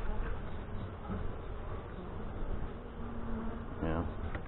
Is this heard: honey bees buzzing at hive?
yes